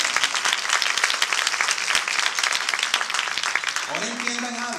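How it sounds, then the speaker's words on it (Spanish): A church congregation applauds steadily and loudly for several seconds, dense clapping filling the space, with a voice starting to speak over it near the end. "Ahora, aplausos por el Señor."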